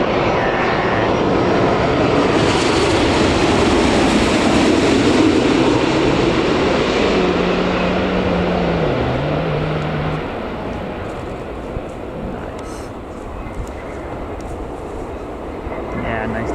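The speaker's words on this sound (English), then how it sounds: "here's the TUI Dreamliner coming in from Manchester" TUI Boeing Dreamliner landing at Newcastle Airport after a flight from Manchester: a loud, steady jet roar that slowly eases off, with a voice talking briefly under the noise.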